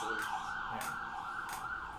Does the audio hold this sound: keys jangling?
no